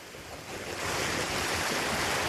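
Flooded river in spate surging past a bridge, a broad, continuous roaring rush of water that swells louder after the first second and stays strong, with no voices.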